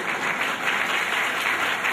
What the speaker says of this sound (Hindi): ताली वाली बजाते रहना